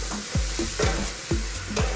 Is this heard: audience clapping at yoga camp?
no